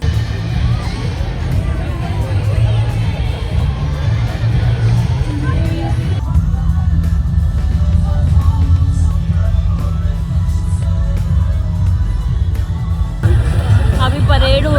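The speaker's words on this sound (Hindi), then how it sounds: "भीड़ हो रही है।" Dense crowd babble at a busy, crowded ride area, a steady wash of many overlapping voices and shouts filling the whole stretch, with a brief shift in texture midway.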